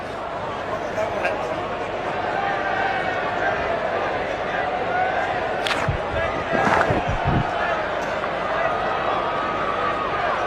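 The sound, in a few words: cricket stadium crowd cheering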